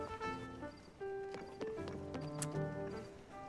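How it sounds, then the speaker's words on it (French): Horses in a video game, with hooves clip-clopping quietly in a steady walking rhythm under game music notes and a brief whinny-like tone, faint throughout. "Les chevaux."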